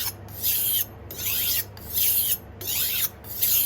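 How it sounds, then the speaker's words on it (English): Knife blade drawn lightly across a 400 grit sharpening stone in repeated strokes, a thin rasping scrape roughly every three-quarters of a second, close and steady with no talking. "So what I will do, I start lightly on my 400 grade."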